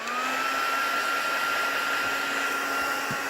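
A handheld heat dryer blowing steadily over ink on a stamped card, a loud continuous whirring drone with a high fan whine that holds the whole time, with no talking.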